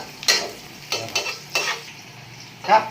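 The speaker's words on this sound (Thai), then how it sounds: "ต้องใส่กระเทียมไปเยอะๆ เพื่อเสริม เพิ่มความอบอุ่นให้กับร่างกายและความตื่นเต้น ทอดครับ" Garlic fried in a wok for Thai stir-fried pork with soy sauce, sizzling softly with a few bursts of stirring from a utensil against the pan, close by and with no talk.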